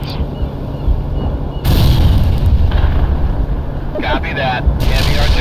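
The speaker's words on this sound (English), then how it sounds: "Heavy artillery barrage in." A heavy artillery barrage exploding in the strategy game World in Conflict: a dense, loud rumble of booming blasts and bursts that swells and continues, with voices speaking over it.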